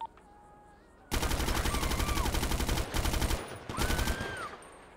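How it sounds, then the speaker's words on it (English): Rapid automatic gunfire in GTA 5 erupts after a quiet second and rattles on loud and close in long bursts, with a short break midway and a rising whine over it. "you're getting shot at, mate"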